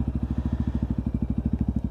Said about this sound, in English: just have a listen to that exhaust